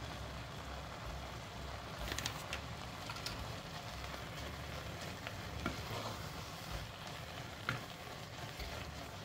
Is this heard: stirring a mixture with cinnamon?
yes